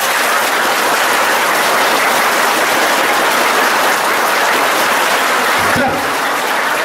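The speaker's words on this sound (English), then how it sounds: "Clap." A group of children clapping hands together in a classroom, a dense continuous roar of applause that holds steady and close for several seconds before thinning slightly at the end.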